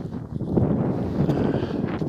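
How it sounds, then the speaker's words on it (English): Wind buffets over a hill trail, a steady low roar and rumble against the microphone lasting about two seconds. "I can feel the wind getting up a little bit."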